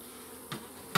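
Honeybees humming inside a queenless hive, a faint, steady drone broken by two short knocks or scrapes near the end.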